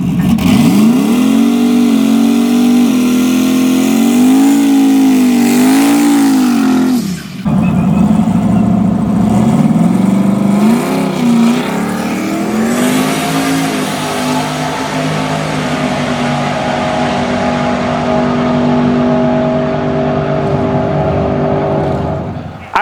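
A race car's engine sits on two-step launch control at a Grassroots Motorsports drag event, droning loudly and continuously with rising and falling revs and one brief dip before it holds steady.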